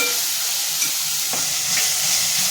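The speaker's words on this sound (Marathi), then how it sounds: "कांदा चांगला तेलावरती परतून घ्यायचे" Onions sautéing in hot oil with salt for a prawn pulao give off a steady, close frying sizzle and hiss, with a few faint stirring scrapes and no voices.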